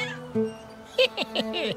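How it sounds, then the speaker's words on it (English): A cartoon cat gives a quick series of short meows, several rising calls close together near the end, among animated voices. "Just have to get rid of that nasty cat."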